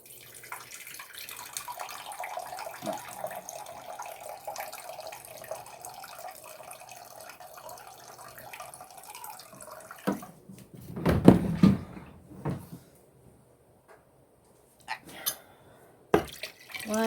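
Water runs from a kitchen tap into a measuring cup, a steady close rush with rising fill tones before it shuts off, followed by a few brief clunks and taps.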